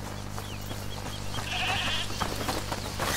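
A goat bleats faintly in A Plague Tale: Requiem, a few short distant calls over a steady low game ambience.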